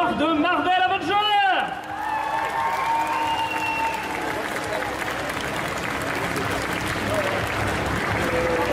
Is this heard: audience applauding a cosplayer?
yes